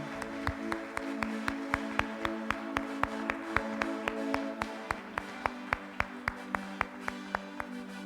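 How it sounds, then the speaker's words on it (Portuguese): A church congregation claps in a steady rhythmic beat, sharp regular claps over sustained organ-like music, fairly faint and even throughout. "Aplaude a Jesus"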